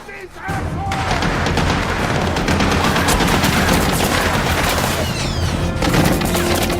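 Dense, continuous gunfire from an action movie: rapid overlapping shots and bursts, loud and steady throughout, with what sounds like voices mixed in under the shooting.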